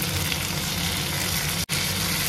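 Close, loud and continuous frying sizzle of onions in a pan with tomatoes and a green chili, a dense steady hiss broken by one brief dropout near the end, with no talking.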